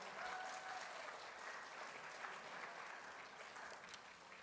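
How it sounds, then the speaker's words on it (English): Audience applause fills an awards gala hall, a steady, dense clapping from a large crowd that holds at even strength throughout with no talk over it. "So let's give him a big round of applause."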